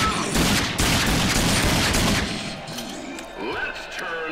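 Rapid pistol gunfire in the video game RAGE, loud sharp shots in a dense volley for about two seconds, then scattered quieter impacts and game effects trailing off.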